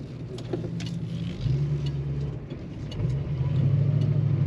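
A 1970 Mercury Cougar hardtop with a 351 Cleveland V8 cruises at speed, its deep exhaust drone steady with gear-like shifts in pitch and a slight stumble, heard from inside the car.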